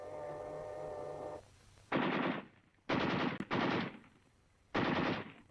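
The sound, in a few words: carbine shot fired at a tank commander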